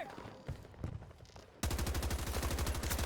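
Rapid automatic gunfire from the AVANCYS rifle fitted with a Hybrid 1.5x/3x scope in Battlefield 2042, breaking out after a quieter stretch of game ambience and then firing as a loud, steady, fast stream of shots.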